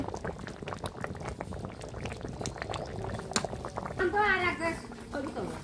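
Fish curry with spinach and potato bubbles in a pot at an outdoor village cooking spot, with close, steady simmering and popping and a clearer burst of bubbling near the end, while a voice talks over it.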